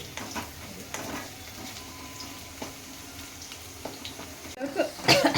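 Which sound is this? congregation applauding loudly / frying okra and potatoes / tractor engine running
frying okra and potatoes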